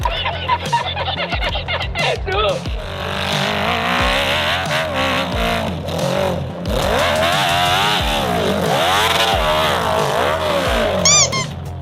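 Dirt bike engine revving hard on a steep hill climb at a British extreme enduro event, a loud continuous high-pitched snarl that rises and falls in pitch as the throttle is worked, with crowd or commentary noise mixed underneath.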